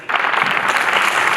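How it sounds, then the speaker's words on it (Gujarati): Audience applause breaks out at a drug awareness event, a sudden dense burst of clapping and crowd noise that swells and stays full and loud. "આ જે પ્રેમભરી તાળીઓ છે ને"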